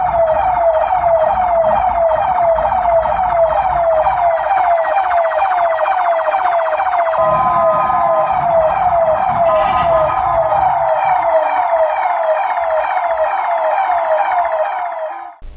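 An ambulance siren wails loudly and close by in traffic on a road, a continuous rising and falling electronic tone with vehicle rumble underneath.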